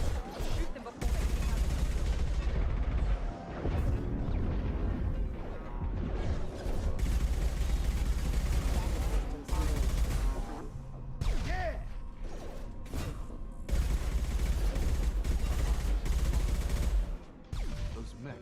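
Sustained rapid gunfire against hostile mechs in Mass Effect Legendary Edition, dense bursts of shooting and metallic impacts running almost continuously, loud and close, with game dialogue briefly audible.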